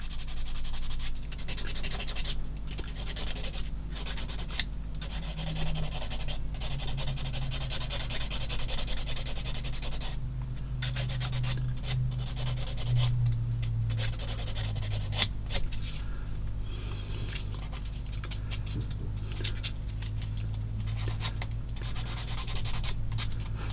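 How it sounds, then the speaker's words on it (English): A sander rubs over a plastic 1/16 scale M10 Achilles tank model, giving a soft, continuous scratchy scrubbing with short pauses between strokes over a low steady hum. "we're going to go in with this sander and finish off to smooth it out"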